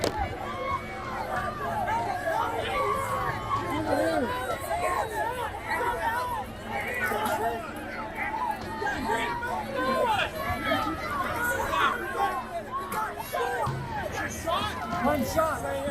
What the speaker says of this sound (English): Watch as those in the crowd try desperately to get the attention of law enforcement, screaming that there is a man that's been hit.